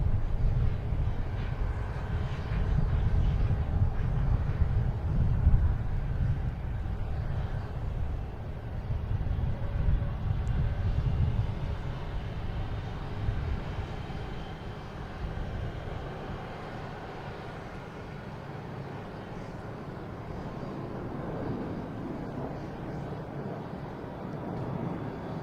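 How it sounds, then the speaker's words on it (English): A Lufthansa airliner taxis past at Boston Logan Airport, a sustained low engine rumble and roar that holds steady for most of the stretch and then eases off, heard from a moderate distance with no talking. "Oh, I got Lufthansa passing in review in front of us here."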